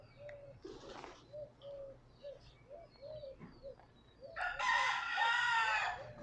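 Chickens roost in a tree in Key West, with soft repeated clucks and coos that give way to a loud rooster crow near the end, heard outdoors at moderate distance.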